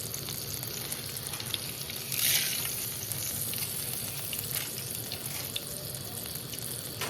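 Dried red chillies and curry leaves spluttering in hot oil for a tempering for tomato chutney, a steady close crackle and sizzle with a brief louder burst of spitting near the middle.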